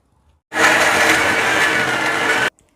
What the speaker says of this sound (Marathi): थोडं थोडं पाणी घालून एकदम बारीक वाटून घ्यायचं